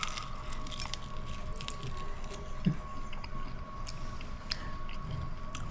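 Close chewing and crunching on a buttermilk-soaked fried squirrel leg, steady soft bites with occasional sharper crunches over a faint background hum.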